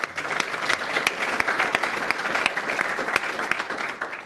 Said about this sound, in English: So please give a huge round of applause for the team.